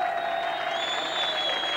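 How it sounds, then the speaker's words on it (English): A crowd at Brough Park greyhound stadium in Newcastle roars and applauds a winning greyhound crossing the line, a steady dense wash of cheering and clapping throughout. "To a tumultuous reception from this crowd at Brough Park, Newcastle."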